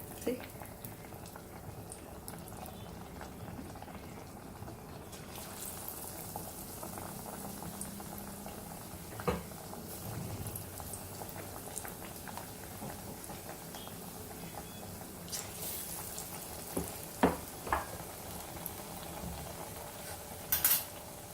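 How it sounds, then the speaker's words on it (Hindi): Bottle gourd pakoras coated in gram flour fry in oil, a soft continuous bubbling hiss with occasional spoon clinks and light clatter, quiet and close. "इस तरह से बेसन में डिप करेंगे और इसे पकोड़े तलते जाएंगे"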